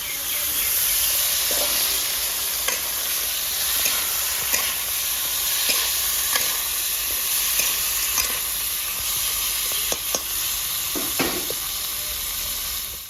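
Fish sizzles steadily in hot oil in a rustic village kitchen, a continuous loud frying hiss broken by occasional sharp pops and crackles, with no talking.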